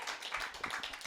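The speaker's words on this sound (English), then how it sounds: "You guys got to clap." An audience at a Hollywood stand-up comedy show claps together in a short, brisk burst of dense applause, close and alone with no talking.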